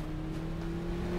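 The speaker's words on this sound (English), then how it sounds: "The car's getting closer." A car in the video game TABS drawing nearer, a steady low engine hum that holds evenly and swells slightly, ending in a short thump.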